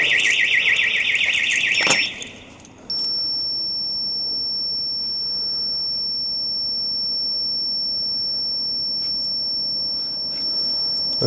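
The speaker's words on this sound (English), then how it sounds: "I'll turn the alarm off." A delivery truck's alarm sounds in snow and ice: a loud pulsing beep that cuts off, then a steady high-pitched electronic tone drones on without a break for several seconds.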